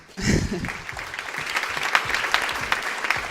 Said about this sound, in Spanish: yo pido un aplauso enorme para ellos